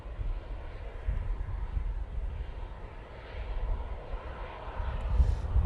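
An airplane landing at Manchester Airport, a faint, distant engine rumble that swells and fades gently over a few seconds, with light wind noise on the microphone and no talking.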